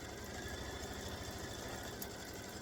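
A long-arm quilting machine stitches an edge-to-edge flower pattern, giving off a steady, fast mechanical whir with rapid needle chatter that runs evenly throughout, close and unbroken.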